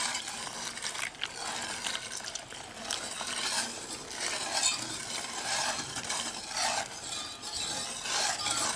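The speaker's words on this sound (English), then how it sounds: "We're going to start adding our whole milk while we continue to whisk." Whole milk is whisked steadily into a chocolate pudding mixture in a bowl, producing a continuous close scraping, stirring swish with no talk over it.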